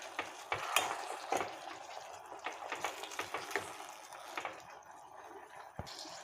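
Tomato pieces mixed with turmeric and salt in a pan for dry fish curry, giving soft, irregular stirring scrapes and wet squelches, fairly quiet, with a few sharper utensil knocks and no talking.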